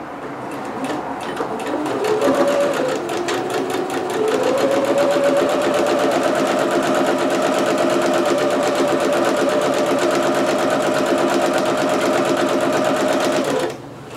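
A sewing machine runs a long, continuous seam through dress fabric for a McCall's M6701 dress pattern, whirring at a steady, fairly loud pace for about twelve seconds before stopping.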